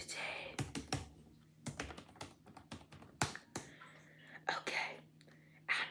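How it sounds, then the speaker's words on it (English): Computer keyboard typing in a whispered travel-agent roleplay: close, soft clusters of key taps and clicks with quiet pauses, alongside faint whispering. "Just type it in."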